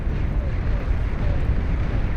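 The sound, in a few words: wall cannon firing in the video game Beyond All Reason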